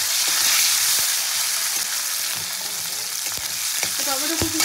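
Chopped tomatoes frying in oil with hing and whole cumin for a vegetarian curry, a loud continuous sizzle with occasional stirring knocks, no voices.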